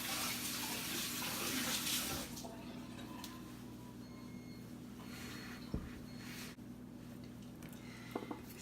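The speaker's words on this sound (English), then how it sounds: "I'm just gonna wash my hands again to finalize it" Tap water runs steadily while hands are washed under it, a loud continuous rush for the first two seconds, then a quieter, softer flow with a few small knocks and splashes.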